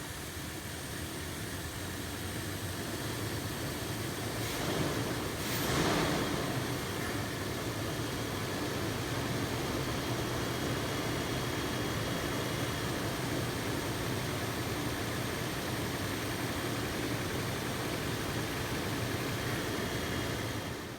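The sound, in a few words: Toyota 4Runner engine starting and idling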